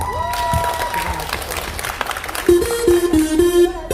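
A crowd applauds steadily and fairly loudly, with a sustained tone and a few melodic notes sounding over the clapping.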